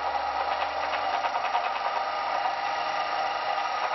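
A small electric motor whirs steadily during a test of a 14 AWG coil, a continuous even buzz with no speech.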